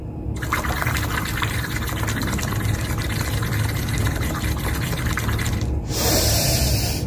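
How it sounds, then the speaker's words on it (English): Someone blows steadily through a straw into a glass of water as a breathing exercise, making a continuous bubbling gurgle for several seconds that shifts to a brighter, louder burst near the end. "So you have to blow out completely by making bubbles."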